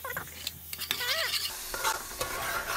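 Sofrito, a paste of garlic, peppers, onion and cilantro, hits hot oil with a close, steady sizzle, stirred with scraping utensil sounds and some brief squeaky scrapes, with no talk.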